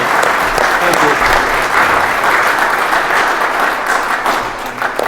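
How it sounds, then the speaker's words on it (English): A large audience claps steadily at a live debate event, dense, even applause filling the whole stretch and easing only slightly at the very end. "a big round of applause for our sponsors"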